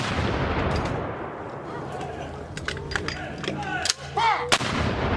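Historic artillery cannon firing during a Jamestown demonstration, heard as a few sharp booms standing out over a steady murmur of outdoor crowd and shouted commands, with voices and whistling tones in between.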